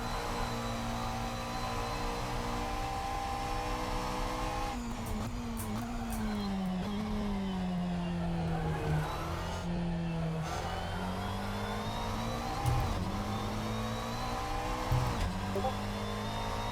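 A Porsche GT3 race car engine in Assetto Corsa, driven during a GT3 practice session at Suzuka. The engine drones steadily, with pitch rising and falling through shifts and revs, while a voice talks over it now and then.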